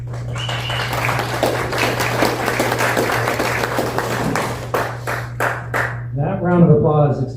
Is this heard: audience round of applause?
yes